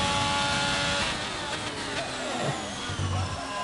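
Race car engines roar in a racing video game set at the Jeddah circuit, with a steady broadband whine and drone that swells and fades slightly as cars pass, loud and continuous throughout.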